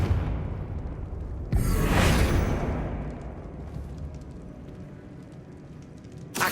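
A Confringo fire spell explodes in Hogwarts Legacy gameplay: a sudden loud blast at about 1.5 seconds rushes into a broad roaring whoosh that fades over several seconds over dim game ambience, with another sharp burst at the end.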